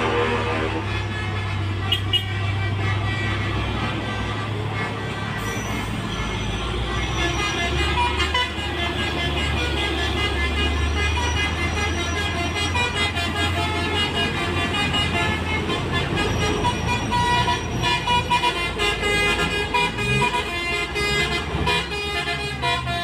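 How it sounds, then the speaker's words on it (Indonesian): Trucks and buses on a mountain road blare their horns back and forth in a loud horn battle, with tooting bursts over steady engine rumble and traffic. "Perang basuri semakin memanas antar sesama truk."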